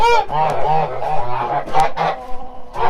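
Several geese honk loudly and repeatedly, nasal calls overlapping in quick bursts close by.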